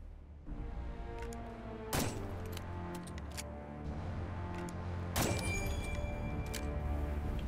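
Guards in Assassin's Creed Chronicles Russia fire at the player, sharp loud gunshots and bursts of volleys at intervals over a rumbling game backdrop, with no talking.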